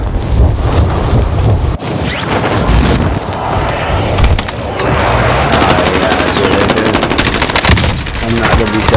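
The Enigma gun fires in Call of Duty Warzone, loud dense automatic bursts mixed with gritty blasts and rushing noise, continuous across the stretch with talk faintly underneath.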